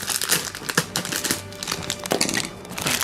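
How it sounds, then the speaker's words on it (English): Plastic packaging of a Kamen Rider HG toy crinkles and rustles in short bursts as it is cut open with scissors, close and crisp, with no talking. "Usually these plastics are quite, easy to tear apart as soon as you have one side open."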